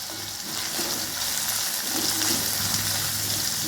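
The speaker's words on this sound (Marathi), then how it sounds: "टोमॅटो सुद्धा छान परतून घ्यायचा आहे 2 मिनिटं" Tomatoes sautéing in an oil-filled pan for a guar bean dish, giving a steady, close, hissing sizzle with faint stirring scrapes and no talk.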